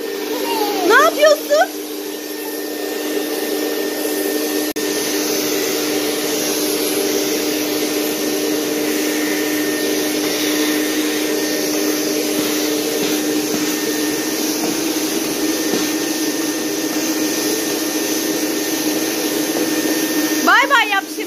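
A real electric household vacuum cleaner runs steadily while sweeping a house, a loud continuous whine and hum close by, with brief voices at the start and end.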